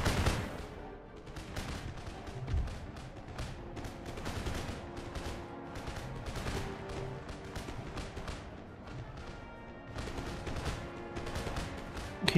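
Rolling musket volleys from massed infantry lines in Empire Total War crackle and boom almost without pause, dense layered gunfire near and far with deep thuds underneath, sustained for several seconds.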